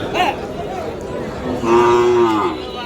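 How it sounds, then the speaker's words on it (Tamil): Native cows moo at a busy cattle market in Matrapalli, one long low moo rising clearly over a constant background of crowd chatter and livestock noise, with a fainter call at the start. "பசு மாடுங்க நாட்டு பசு மாடு வாங்கினோன்னா இங்கே வரலாங்க"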